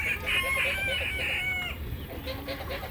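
A farm flock of chickens clucking and calling close by, busy overlapping bird voices in the first half then quieter murmuring, with a low background rumble and faint human voice.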